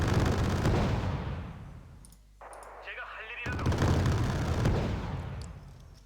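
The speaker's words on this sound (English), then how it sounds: "Incoming missiles from a Torrential 3." Booming missile strikes and explosions in the naval battle game Wargame Red Dragon, loud rolling blasts with a short quieter gap of mechanical clicks, then another heavy wave of impacts.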